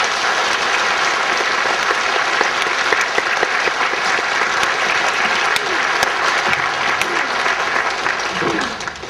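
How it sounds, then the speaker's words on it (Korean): A congregation gives sustained applause during a church worship service. The clapping is dense and steady, filling the room at an even level for about nine seconds before easing slightly at the close. "먼저 이 시간에 우리 하나님께 감사와 영광의 박수 올려드리겠습니다."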